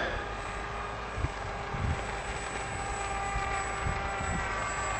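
An AXN Floater Jet RC plane emits a steady high-pitched whistling whine over gusty wind rumble, with a few soft thumps.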